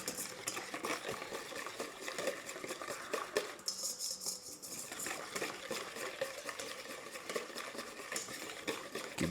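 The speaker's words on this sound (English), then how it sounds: "Just make sure you scrape the sides." A spatula scrapes around the sides of a pan of chocolate ice cream mixture, giving close, busy scraping and stirring noise in a steady stream with a brief lull partway, with no talking.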